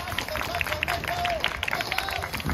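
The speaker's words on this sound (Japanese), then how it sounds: "皆さん、もう一度大きな拍手をお願いします。" Audience applause at an outdoor stage event where local mascot characters appear, a dense, continuous patter of clapping from a crowd with a voice speaking over it.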